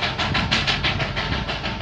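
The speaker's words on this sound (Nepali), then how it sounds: "Darjeeling toy train" Darjeeling toy train running at a busy tourist-season stretch, a steady loud rumble with rhythmic bursts of hiss or chuff repeating evenly throughout, close by and continuous with no talk.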